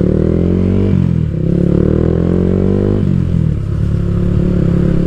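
Yamaha Sniper 155R motorcycle engine, loud and close, with a rising rev that drops as gears shift, followed by steady throbbing running, no voices.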